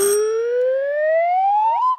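A game show quiz buzzer sounds one long electronic tone that glides steadily upward in pitch and cuts off abruptly after about two seconds, loud and alone.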